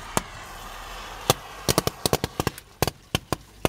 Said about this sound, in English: And this is a roll from a cap gun.